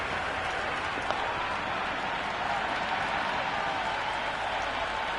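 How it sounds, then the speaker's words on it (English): The crowd at a cricket ground in Dharamsala, during an India vs South Africa T20 match, makes a steady, dense roar that holds at an even level from start to finish. "Well, this match is certainly getting exciting and the crowd have joined the party. It's pretty noisy at the ground."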